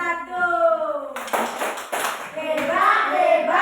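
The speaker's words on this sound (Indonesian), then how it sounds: "tepuk hebat untuk kelompok 1" A class of students claps hands in a classroom, a burst of rhythmic group clapping that follows a voice speaking and runs under chanting voices.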